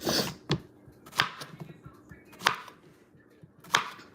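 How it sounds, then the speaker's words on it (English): A very sharp knife slicing vegetables for chicken caldo on a board, four crisp separate cuts spaced about a second apart, with faint rustling between them and no voices. "all I do is just slice them"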